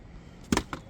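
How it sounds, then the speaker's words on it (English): Febreze air freshener spritzed inside a car: two quick, close hissing spray bursts, the first slightly longer, against a quiet background. "Get some Febreze on it."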